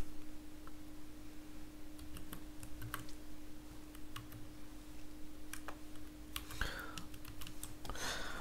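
Typing on a computer keyboard comes in short, irregular bursts of light clicks, close but quiet against a steady electrical hum, with no talking.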